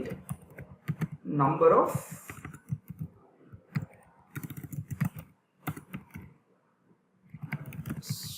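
Quick, light keystrokes tap on a computer keyboard as Java code is typed, clicking in bursts beneath a person speaking steadily close by.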